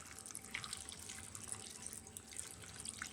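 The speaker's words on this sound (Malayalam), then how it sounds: "കുറച്ച് വെള്ളം ഒഴിക്കുക കേട്ടോ," Water is poured into a jackfruit curry while it cooks, a faint, steady trickling stream with light splashes throughout.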